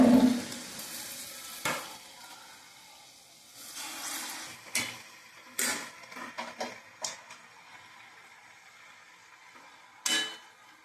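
Maida flour bondas frying in hot oil, a soft continuous bubbling sizzle punctuated by sharp clinks and scrapes of a spoon or ladle against the pan, no talking.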